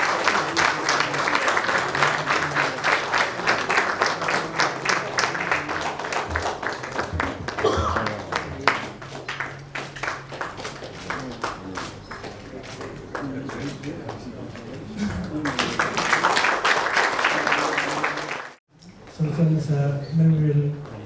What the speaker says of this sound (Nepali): जोरदार ताली जाओ. Come on,